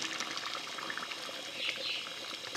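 Water pours steadily into a pot of chicken stew with chickpeas, a continuous close splashing rush with a faint bubbling edge that runs the whole moment without a break.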